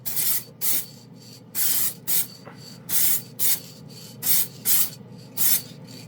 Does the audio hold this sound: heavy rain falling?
no